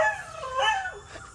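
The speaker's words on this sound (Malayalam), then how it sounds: "ഇപ്പൊ തുടങ്ങും കൊര." Pet dogs waiting to be fed give a short, close whimpering howl that rises and falls, a single plaintive cry with no talk over it.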